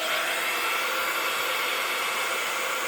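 A heat gun blowing hot air over freshly painted stamped craft work, a loud, steady broadband hiss that holds unchanged from start to finish.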